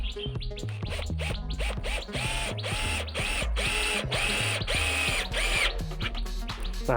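A screw gun drives self-drilling screws, with plain drill tips and no wings or countersink ribs, into cement board flooring on a small house build. Repeated whining spin-ups sound close and loud in quick succession, with ratcheting clatter between runs.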